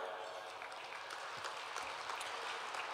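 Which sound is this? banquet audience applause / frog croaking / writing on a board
banquet audience applause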